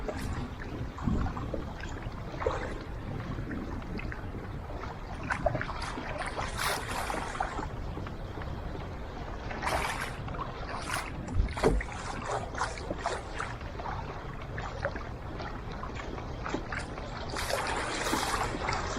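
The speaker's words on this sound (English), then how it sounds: "You just got to keep paddling." Paddle strokes on a bass fishing kayak moving through fast current near bridges, water splashing and rushing all around, with wind buffeting in bursts and no voices.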